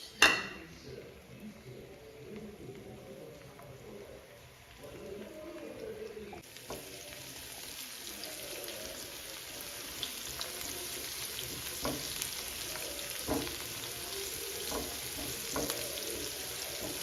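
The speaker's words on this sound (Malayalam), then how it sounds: "നമ്മുടെ ഉള്ളിയും വേപ്പിലയും മൂത്ത് തുടങ്ങിയിട്ടുണ്ട്" Chopped onions and curry leaves fry in hot coconut oil in a pan, a quiet start that swells into a steady, close crackling sizzle with occasional pops and faint utensil clinks.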